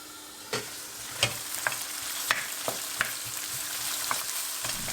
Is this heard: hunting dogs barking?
no